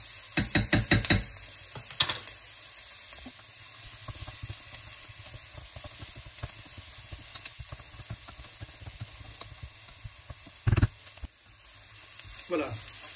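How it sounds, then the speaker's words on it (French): Onions sautéing in olive oil alongside chicken drumsticks for a preserved-lemon chicken, a soft, steady sizzle and hiss with a burst of sharp knocks at the start and occasional clatters of utensils against the pan. "Tout ça va bien parfumer nos oignons. Et je vais les laisser revenir, qu'ils soient translucides."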